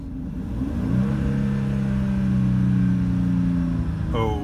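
A 2008 Jeep Commander with the 3.7 V6 accelerates, its engine droning loud and steady close up, with the revs rising and then holding for several seconds before a brief shift near the end.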